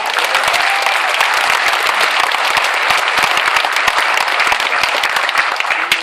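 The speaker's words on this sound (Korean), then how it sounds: "박수를 보냅시다." A crowd at a Korean political rally claps loudly and continuously, forming a dense, close wash of many hands with no voices.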